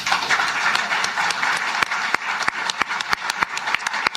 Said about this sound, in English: I was clapping for the Premier there